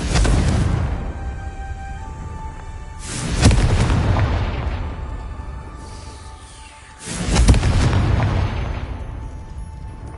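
Loud, booming blasts of the Confringo fire spell in the Hogwarts Legacy video game, three heavy explosions spaced a few seconds apart, each bursting and then rumbling away.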